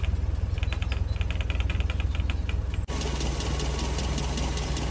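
A Land Rover Series 2a 88-inch petrol soft top with its 2.25-litre three-bearing engine idles steadily, a close, even rhythmic chug with light ticking, briefly dipping before settling back into a smooth idle.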